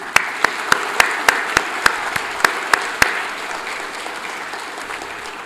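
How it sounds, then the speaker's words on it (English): Audience applause at the NIPER PHARMACON 2022 pharmaceutical conference inaugural program, a steady wash of clapping with a dozen sharp, loud claps standing out in a regular rhythm before tapering off. "let us give a round of applause for him."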